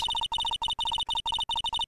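In the Phoenix Wright: Ace Attorney video game, a phone's electronic dialing tone plays as a rapid string of short, loud beeps broken by brief pauses, with no voices.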